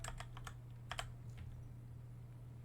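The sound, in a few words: typing on a computer keyboard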